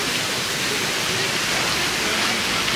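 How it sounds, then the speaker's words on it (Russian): Light summer drizzle falls in the Lower Park at Peterhof, a steady soft hiss of fine rain that stays even and unbroken throughout, with no voices. "Выглянуло солнышко и чуть-чуть моросит"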